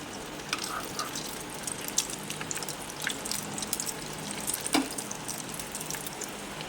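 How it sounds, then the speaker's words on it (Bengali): Steady hiss of frying in hot oil fills the clip, with a soft clatter partway through as a chicken Mughlai paratha is turned over. No voices. "এবার আমি মোগলাইটাকে উল্টিয়ে দেবো"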